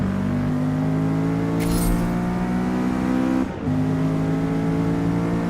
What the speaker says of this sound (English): it's nice how the car sounds considerably different while you're in this view